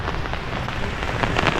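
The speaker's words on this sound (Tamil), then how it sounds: "சரியான மழை பாருங்க திட்டுப்பாவும் மழை விடுற பாடு இல்லை" Heavy rain pours steadily at a small fish market in Jaffna, a dense close hiss of drops drumming on surfaces with no voices over it.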